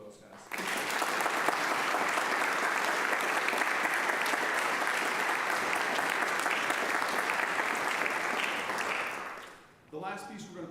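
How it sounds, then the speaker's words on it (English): A concert audience at a brass ensemble performance gives seniors a long, steady round of applause that holds loud and dense for about nine seconds before tapering off. "How about a round of applause for those guys?"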